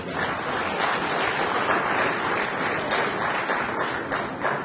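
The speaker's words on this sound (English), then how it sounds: "Let's give our midwives a good round of applause." Steady, dense applause from a conference audience at a Nigerian family planning event, sustained and even throughout with no voices over it.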